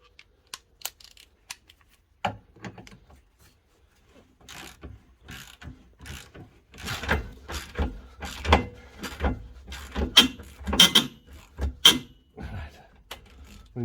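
A ratchet working tow bar bolts loose on a Crafter/Sprinter van, sounding as sparse clicks at first, then a rapid run of dense, loud ratcheting clicks in quick bursts, close up.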